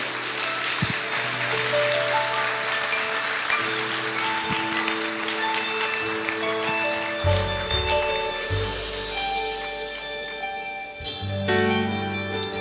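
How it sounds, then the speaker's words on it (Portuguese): A church congregation claps in sustained, dense applause throughout, with organ or keyboard chords sounding underneath and shifting in pitch midway. "Glória a Deus, aplauda,"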